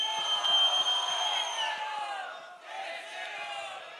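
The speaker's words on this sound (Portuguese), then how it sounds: "Só quem gostou da rima do MCW à minha esquerda faz barulho." Crowd at a rap battle cheering and shouting together in a loud sustained roar of whoops and yells, easing slightly midway then swelling again.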